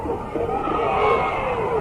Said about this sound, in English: what we're going to do right now is have the crowd help us in a cheer